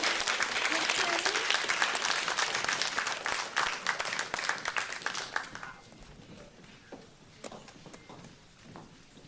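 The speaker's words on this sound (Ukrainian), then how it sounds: "Ну, давайте їх оплесками проведемо." Audience applause for a saxophone and piano duo at a concert, dense clapping from a large crowd that thins and fades toward the end into scattered claps.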